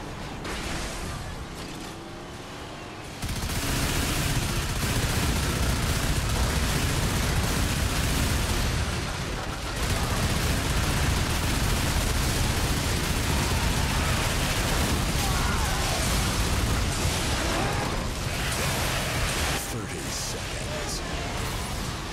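Mega guns firing in the Twisted Metal video game during an online 4-versus-4 match, a dense continuous barrage of loud booming blasts and explosions that runs almost unbroken for the whole stretch.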